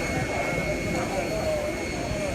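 Airport apron where a football team's plane is deboarding: steady, loud jet engine whine and roar fills the scene, with people talking over it.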